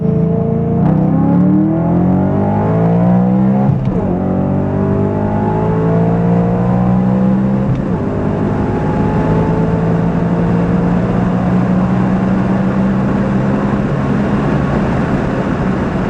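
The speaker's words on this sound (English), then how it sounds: "those E92 M3s sound amazing." A BMW E92 M3 engine drones loudly and continuously, its pitch rising and falling through several revs as it runs, with no voices.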